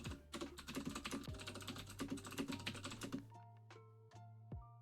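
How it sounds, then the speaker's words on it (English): A loud computer keyboard clacks in rapid, uneven bursts of keystrokes, close and clear, with no talking. "my keyboard's really loud, so you're probably just hearing like clack clack."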